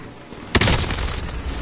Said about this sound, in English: Enemy precision airstrike, stay alert.